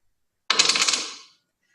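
A coin drops and bounces in a quick metallic jingle lasting under a second, close and clear against silence.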